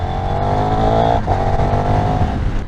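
A KTM 1390 Super Duke R EVO motorcycle pulls a roll-on, its engine droning loud and steady for a few seconds with a brief dip midway, like a rider holding the throttle open.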